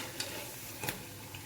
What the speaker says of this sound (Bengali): একটু লালচে লালচে ভাজছি যাতে ভেতরে কাঁচা না থাকে।